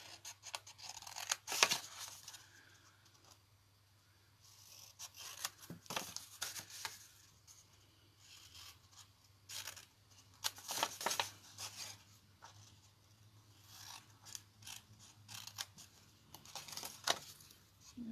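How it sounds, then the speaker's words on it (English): Scissors snip out paper corners for a scrapbook in a series of short, crisp cuts at irregular intervals, close and fairly quiet, with faint handling rustles between them and no talking. "we're going to cut out these corners"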